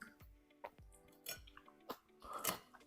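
Close, crisp crunching bites of pickled cabbage repeat every half second or so, wet and crackly, with no one speaking.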